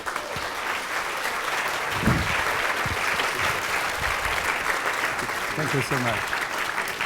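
Audience applause welcomes a speaker at a lecture: a dense, steady wash of clapping that fills the room throughout, with a voice briefly speaking over it.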